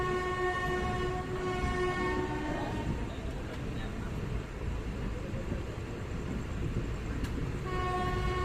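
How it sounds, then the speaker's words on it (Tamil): The Chemmozhi Express pulls out of Mannargudi station with a long steady horn blast at the start and again near the end, over a continuous loud rumble of the train and its wagons. "மன்னார்குடி டு கோயம்புத்தூர் செம்மொழி எக்ஸ்பிரஸில் ஜேர்னி ஸ்டார்ட் ஆக போகுது."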